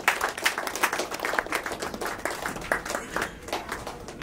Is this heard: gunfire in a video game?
no